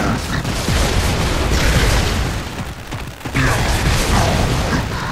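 A Ticker enemy exploding in Gears of War 3 Horde mode, a loud booming blast within a dense, noisy battle soundscape of rumbling effects and clatter, with a brief lull before the din resumes.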